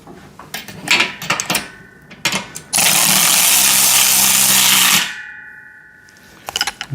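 A power tool drives bolts tight on a VEVOR pec deck and rear delt home gym machine: several short metallic clatters, then a loud steady whir of about two seconds, close and alone.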